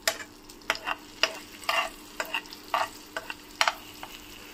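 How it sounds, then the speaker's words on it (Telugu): Chopped garlic frying in melted fat in a pan for a spinach and corn sandwich, a steady close sizzle broken by repeated scraping strokes of a spatula, no voices. "ఇప్పుడైతే నేను గార్లిక్ వేస్తున్నాను"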